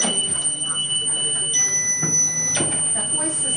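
A defibrillator's electronic alarm sounds as a sustained high-pitched tone with several beeps, set against background chatter from people talking nearby at a public donation event.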